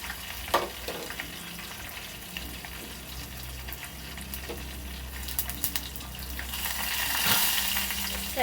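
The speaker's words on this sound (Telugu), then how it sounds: "ఆయిల్ కాగింది కదండి, 1/2 స్పూన్ జీలకర్ర అండి, 1/2 స్పూన్ ఆవాలు వేసుకుంటున్నానండి" Cumin, mustard seeds, garlic and curry leaves frying in hot oil for a sambar tempering, a steady close sizzle with scattered crackles and spoon stirring, swelling louder near the end.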